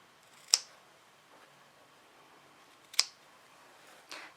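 Sharp-tipped scissors snip the corners of sewn fabric for a makeup bag, two crisp isolated cuts about two and a half seconds apart, then a softer third snip, close and quiet.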